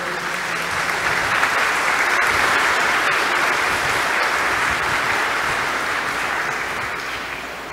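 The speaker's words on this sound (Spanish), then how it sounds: "Un fuerte aplauso." A graduation ceremony audience bursts into strong, continuous applause, dense clapping from a large crowd that stays level for several seconds and then eases off slightly.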